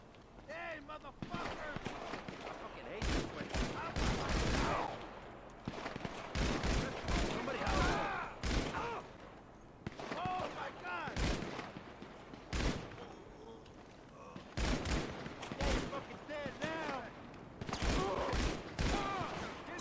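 Short clusters of sharp gunshots in GTA 5 Online, fired without crosshairs. The bursts come in quick rapid volleys separated by brief pauses, and voices talk in between.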